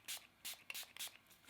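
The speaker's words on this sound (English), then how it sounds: "I'm going to add a little bit of setting spray before I do my lips." Milani Make It Last setting spray misting from a pump bottle: several short, soft hissing bursts in a quick uneven series, close and quiet.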